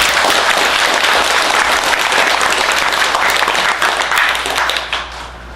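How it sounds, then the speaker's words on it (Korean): Sustained, loud applause from an audience at a Buddhist dharma gathering in a hall, dense and steady clapping that holds for several seconds before thinning and fading at the end. "한번 박수를 한번 주세요."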